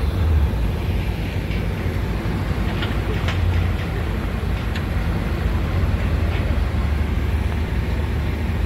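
A train arriving at Beed railway station carrying new rails, heard as a steady, loud, low rumble with rolling rail noise that runs throughout without pause or voices.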